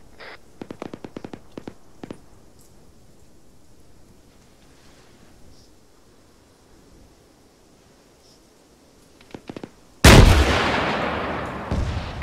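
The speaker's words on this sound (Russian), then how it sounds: "Я сейчас стрелять буду." Gunfire in the Arma 3 military shooter game: several scattered sharp shots early on, a quiet lull, then a few more shots and a loud, sustained burst of heavy firing at the end.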